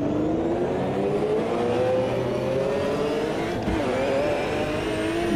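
Group 5 race cars at Donington in the racing game Automobilista 2 roar in a loud, continuous engine drone with rising revs as the pack accelerates, layered engine notes from several cars and no talk.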